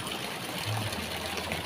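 Sulfur hot spring water flows and trickles steadily at Mambukal Hot Spring Resort, a continuous close watery rush with no voices.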